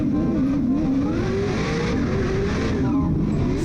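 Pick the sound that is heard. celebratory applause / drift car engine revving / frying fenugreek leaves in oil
drift car engine revving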